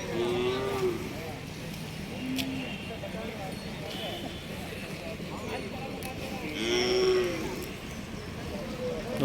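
Hallikar cattle and calves at a fair, a few short lowing calls rising over a dense, steady crowd murmur with people talking nearby.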